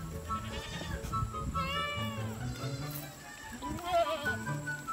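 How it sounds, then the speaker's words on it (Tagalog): Goats on a farm bleat repeatedly in wavering, nasal cries, several overlapping calls from nearby animals over low background noise and rustling. "Ngayon, ialis natin yung mga inahing kambing natin."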